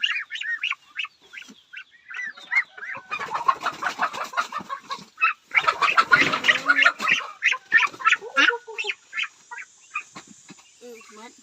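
Ducks being rounded up in a Thai farmyard, a flock of seven, quacking and clucking in rapid busy bursts that swell and thin out, close by with a little background voice.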